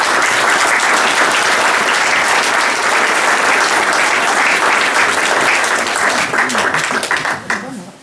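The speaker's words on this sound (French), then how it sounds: "Et je veux bien qu'on les applaudisse." A hall audience at a New Year's address in Pouzauges applauds local volunteers and associations, loud, dense and sustained clapping that fades out near the end.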